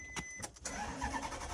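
A Lamborghini Murcielago, running on a jumper pack, cranks and fires up with a few sharp bursts before settling into a steady, loud engine roar close by.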